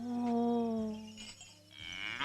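A cow lets out a long, loud moo near the mic, a sustained low call, then a shorter second bellow, in a rural street scene from the Tamil film Thenkasi Pattanam.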